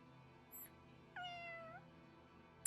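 A cat meows once in Fire Emblem Engage, a single clear drawn-out meow, close and alone over quiet game ambience with a small chime just before it.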